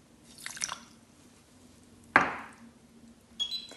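A brief splash of 25 ml of water poured onto 90 g of sugar in a pan, a single quick wet burst with faint drips before and after in a quiet kitchen.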